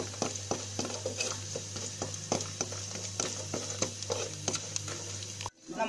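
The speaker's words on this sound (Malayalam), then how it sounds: "ഇതേ എണ്ണ വേണം നമുക്ക് എന്നിട്ട് ഈ ഉടച്ച് വെച്ചിരിക്കുന്ന ചക്കക്കുരു ഒന്ന് വഴറ്റിയെടുക്കാനായിട്ട്" Crushed jackfruit seeds sauté in hot oil for payasam, giving a steady close sizzle broken by repeated scraping stirs at a roughly regular rhythm, with no talk.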